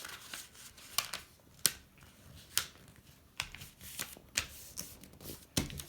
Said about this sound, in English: Fold it from this corner.